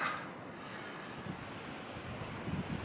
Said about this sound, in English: hopefully you can hear me over the wind because it's 35, 38 degrees out and 10-mile-an-hour winds